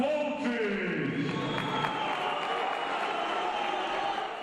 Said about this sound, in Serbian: A što se očekivalo od domaće publike, topla dobrodošlica